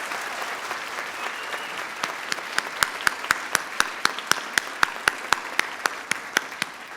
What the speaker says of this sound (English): Let's give our teachers another round of applause.